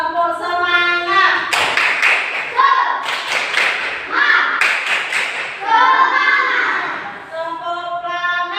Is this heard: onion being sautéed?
no